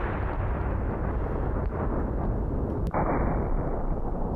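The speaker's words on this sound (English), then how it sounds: "Yeah, oh, the fire explosion is big!" A .50 BMG pure incendiary round strikes stone outdoors, giving a single sharp, loud impact blast that cuts through a steady background roar and leaves a lingering rumble.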